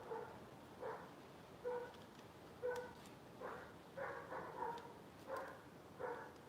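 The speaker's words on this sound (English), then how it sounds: "Haven't heard that dog before." A dog barks repeatedly at a distance, short separate woofs spaced roughly every second, moderately faint with no talking.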